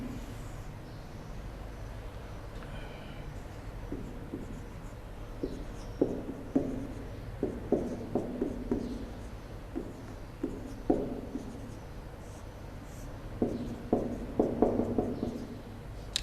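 Pen or marker writing out values during a statistics maths lesson, soft scratchy strokes in short clustered bursts with pauses between, close and quiet over a steady background hum.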